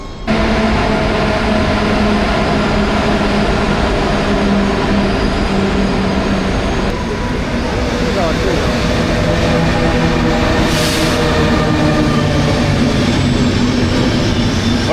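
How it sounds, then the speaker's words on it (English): A train rolls into a station in Morocco with a steady, loud rumble and rail noise that continues unbroken, no voices over it. "The train just arrived."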